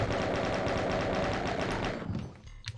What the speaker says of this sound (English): Just means that we have to kill these guys with just the chain gun